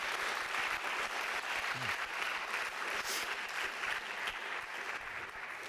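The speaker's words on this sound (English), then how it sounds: "We already have more applause than Trump's entire UN speech." An audience claps at the opening of an anti-war forum on war and the environment, with sustained, dense applause from a crowd filling the room at a steady level throughout.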